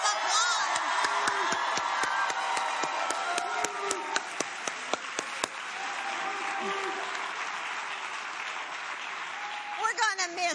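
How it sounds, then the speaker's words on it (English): A crowd applauds Jason Kelce at a post-State of the Union political event, sustained clapping with scattered cheers and whoops, sharper claps standing out early, and a brief voice rising near the end. "can we give Jason Kelsey a round of applause?"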